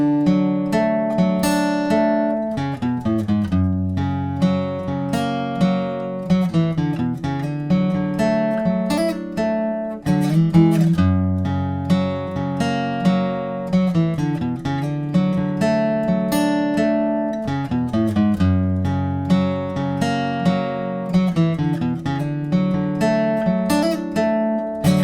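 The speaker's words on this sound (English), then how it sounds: "And altogether, the full riff sounds like this." Electric guitar playing a riff, rhythmic picked notes and slides repeating in a looping phrase, clear and close, with no talking.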